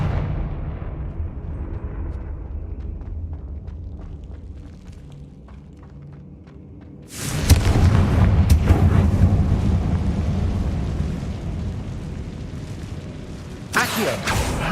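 Confringo blasting-spell explosions in the video game Hogwarts Legacy: a low rumbling ambience gives way to a sudden loud burst and sustained roaring blast, then another sharp explosive hit near the end, with a voice speaking.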